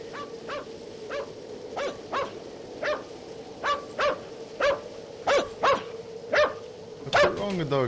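Dog barking in a spooky video game, a run of about a dozen evenly spaced sharp barks at a steady rhythm, fairly close and clear, ending in a rising whimpering yelp.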